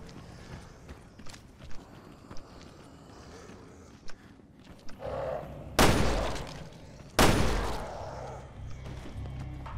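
Two sharp, loud gunshots ring out in a Resident Evil Revelations 2 game session, spaced about a second and a half apart, preceded by quieter footsteps and soft clicks.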